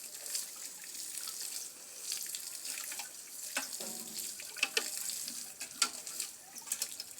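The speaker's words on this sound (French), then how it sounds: "Vous voyez, l'eau est correctement sur la planche." Steady flow of water poured onto a nursery seedbed in an outdoor plant nursery, a continuous hiss with brief splashy spikes near the end, fairly faint with no talking.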